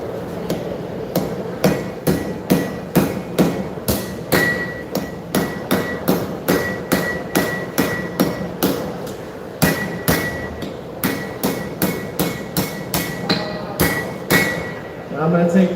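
Steady rhythmic hammer blows forging steel at a live knife show, sharp ringing strikes repeating quickly over a low background murmur, close and loud with occasional brief pauses.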